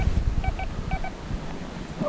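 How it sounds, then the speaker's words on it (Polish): Several short, high electronic beeps from a metal detector in quick pairs and groups, over rustling outdoor noise on a beach and faint low voices. "Jest kolejny sygnał."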